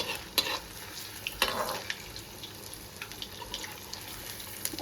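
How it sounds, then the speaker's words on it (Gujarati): Food fries in hot oil in a pan, a soft steady sizzle with a few brief clinks and spatters, faint and close with no talking. "એકદમ લાલ બ્રાઉન થઈ જાય ને ત્યાં લગી આપણે તરવાના બધા એને."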